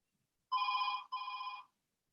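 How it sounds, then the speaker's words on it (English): A telephone bell rings twice in quick succession, two clear electronic trills with a short gap, set against near silence. "Phone's ringing."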